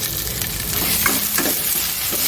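A cut tomato and green chillies go into a hot frying pan, a loud continuous sizzle with stirring scrapes and small bursts of crackle, close by and with no talking.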